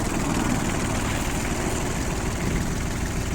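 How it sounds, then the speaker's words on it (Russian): A Yanmar AF-18 three-cylinder diesel 4WD tractor with about 550 hours runs at a steady even pace, a loud continuous close-up rumble with no voices. "слышно, что трактор, я думаю, ровно работает отлично"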